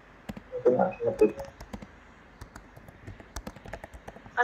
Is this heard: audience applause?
no